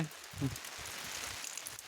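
Faint, steady rain patters down in a Gujarati village, a soft continuous hiss with a few low thumps near the start.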